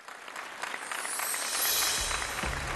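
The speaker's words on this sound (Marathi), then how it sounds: "जोरदार टाळ्या" Audience applause at a Marathi television show as the first woman entrepreneur of the episode is welcomed onto the stage, a steady clapping wash that swells slightly toward the end, with no talk over it.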